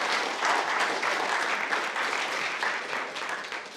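A short, steady burst of audience clapping, moderately loud and even, fading slightly toward the end with no talk over it.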